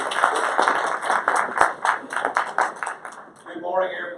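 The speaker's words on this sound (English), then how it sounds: "let's give him an applause" Audience at an education session claps in a quick burst that fades out after a few seconds, followed by a brief pause and the start of a voice.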